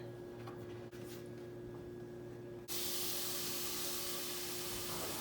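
Sausages sizzle in vegetable oil in a hot pan at medium-high heat, a loud, steady crackling hiss that bursts on abruptly after a quieter stretch of faint kitchen hum and continues without pause.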